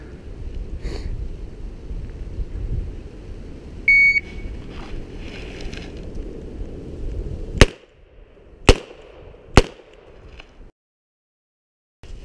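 At a revolver shooting qualification from 30 feet, a shot timer gives a brief beep, then three loud, sharp revolver shots ring out about a second apart over a low background hum.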